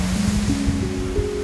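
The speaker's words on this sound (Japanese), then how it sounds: "海の音が近い、波の音" Sea waves wash near the foot of a high cliff on Ainoshima island, Japan, a steady broad roar of surf close by, with a low droning hum underneath and no voices.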